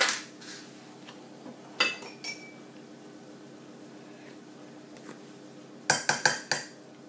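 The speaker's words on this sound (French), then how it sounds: "Je vais bien mélanger." Couscous being mixed with butter in a bowl, heard as a few sharp close clinks of utensil on dish, with a cluster of rapid knocks near the end over a low background hum.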